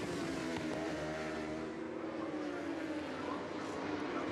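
Superbikes race at Brands Hatch during a 2014 British Superbike race, with a faint, continuous engine drone carrying at a distance throughout.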